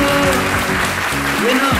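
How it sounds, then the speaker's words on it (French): Audience applause greets a guest singer, Clément Coulibaly, entering a TV studio set; steady clapping runs throughout under loud music with a tonal melody over it. "je vous invite à applaudir très très fort pour Coulibaly Clément Nambara"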